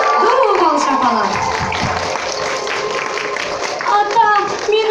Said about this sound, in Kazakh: Ду бол шапалақ